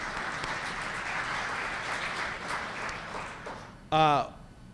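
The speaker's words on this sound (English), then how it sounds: "So if we could just give them a round of applause." A conference audience gives a sustained round of applause, with dense clapping filling the room and a brief loud chime near the end.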